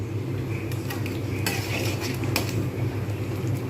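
Mixed lentils of a Bengali panchmishali dal are stirred in a cooking pot as they begin to boil, with steady scraping and a few sharp utensil clinks against the metal over a constant low bubbling hum.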